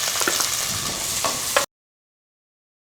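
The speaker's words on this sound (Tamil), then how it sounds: "எண்ணெயும் நெய்யும் நல்லா காஞ்சிச்சு. இதில் நம்ம வெங்காயம் போட்டுக்கலாம்" Onion frying in hot ghee and oil gives a steady, close sizzling hiss with a few soft stirring clicks; it lasts about a second and a half, then cuts to silence.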